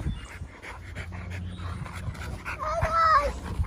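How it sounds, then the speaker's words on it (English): Several pit bulls play outdoors in a suburban yard. Close panting and scuffling carry throughout, and a high whimper or whine rises near the end. "Dogs are playing."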